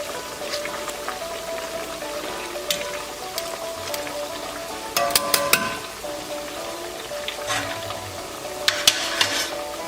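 Pork ribs for Peking-style pork deep-frying a second time in very hot oil, giving a steady close sizzle with scattered crackles and pops and a few louder bursts of spattering.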